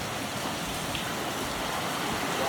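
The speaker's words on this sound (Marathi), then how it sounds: "फुल पाऊस चालू झालाय आता." Heavy rain pours steadily during a night ride, a dense, continuous hiss of drops hitting surfaces close around, loud and unbroken.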